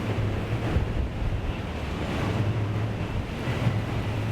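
Wind roars during Hurricane Irma at Walt Disney World, a loud, gusting rumble with turbulent buffeting against the microphone, continuous with slight surges and no voices.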